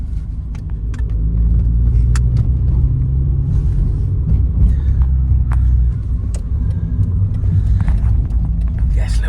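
Inside a Mazda MX-5 on the road, a low, constant engine and tyre rumble fills the cabin, with scattered small clicks and rattles and people talking over it.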